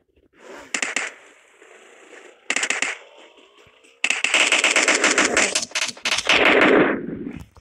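Loud gunfire in the mobile shooter PUBG Mobile: two short rapid bursts, then a long sustained stretch of automatic fire with sharp repeated cracks, close and dominant.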